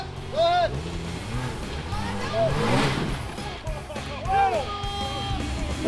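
An off-road vehicle works its throttle on a steep trail on the Big Coal River Trail, the engine revving up and down with rising and falling whines beneath excited overlapping voices of people talking and cheering.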